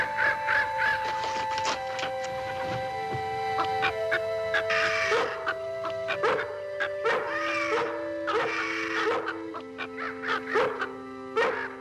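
A flock of chickens clucks and squawks nearby in a rural farmyard, with busy overlapping calls and a few louder cackles over a steady background of music.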